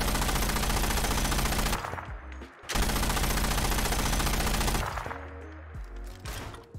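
Mark 19 grenade launcher from a Fallout 4 heavy weapon mod fires in long, dense automatic bursts, loud and continuous with a short pause between volleys, then trails off into mechanical clunks.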